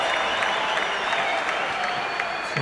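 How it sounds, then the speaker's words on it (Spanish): A crowd at a boxing match applauds a lively exchange between fighters, sustained clapping mixed with whistles and murmuring across the arena. "la gente lo reconoce con este aplauso"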